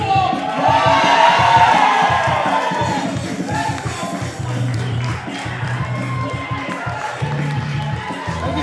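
Tournament crowd cheering: a dense, loud roar of many voices in a large arena that swells early and then settles into a sustained rumble of shouting.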